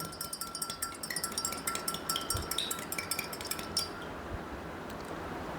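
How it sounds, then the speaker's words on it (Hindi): A spoon stirs salt into water in a glass during a classroom science demonstration, making a quick run of light, repeated clinks against the glass that fade out near the end. "अब मैं इसको थोड़ा सा स्पून से हिला देता हूँ ताकि ये अच्छे से नमक हमारा जो है वो मिक्स हो जाए"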